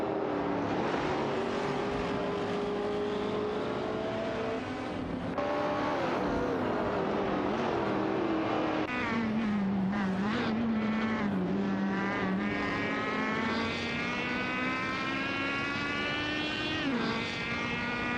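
Race cars in a racing video game roar continuously with high engine whine, revs rising and shifting as cars battle for position, loud and steady throughout with no talk.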